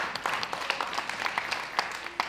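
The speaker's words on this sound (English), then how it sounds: "Okay, now let's clap for ourselves." Quiet clapping from a small group at a Ghanaian Asafo libation ritual session, distinct individual claps scattered over a soft background.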